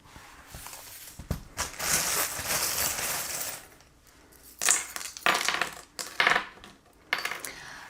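Small divination charms are dropped and cast, clattering and jingling in quick bright bursts, first as a longer shaken rattle and then as several separate close-up spills.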